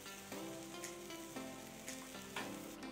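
Tortilla pizza sizzling in a covered frying pan over very low heat while the cheese melts, a steady close crackle with a few louder pops and scrapes, no voices.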